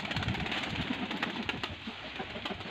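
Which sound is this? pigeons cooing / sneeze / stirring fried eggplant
pigeons cooing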